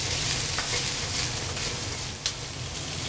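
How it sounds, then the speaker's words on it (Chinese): Pork, onion and sweet pepper are stir-fried over medium-high heat in a wok, giving a continuous loud sizzle with scraping stirs and occasional clacks of the spatula. "我们把它翻炒一下。"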